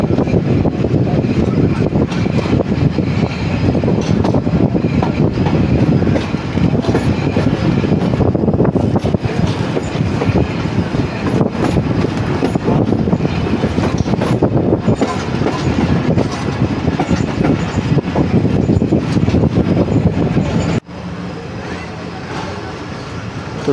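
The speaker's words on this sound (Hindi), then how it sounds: "टेंट डाउन अल्लामा इकबाल जो है वो मियाँ चन्नू रेलवे स्टेशन पर अप्रोच बना रही है" The 10 Down Allama Iqbal Express rumbles toward Mian Channu railway station, heard from aboard as a loud continuous roar of wheels and carriages that drops suddenly quieter near the end.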